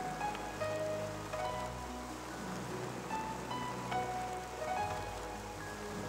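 Steady rain falling in a dense, continuous hiss, moderately loud and unbroken throughout with no voices.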